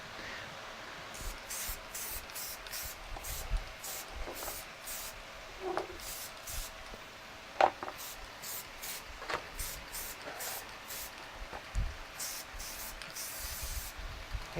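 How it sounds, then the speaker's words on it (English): Spray paint hissing onto a piece of wood in repeated short bursts, each a few seconds apart, fairly quiet, with faint tapping and handling noises between sprays. "Now we're going to do some more spray painting."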